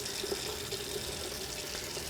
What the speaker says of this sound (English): directing the stream of the faucet in whatever direction you want